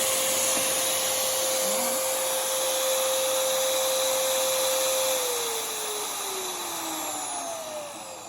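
A hammer drill's electric motor spinning at high speed, around 2940 rpm, giving a steady, loud, close whine throughout that dips slightly in pitch toward the end, with no speech.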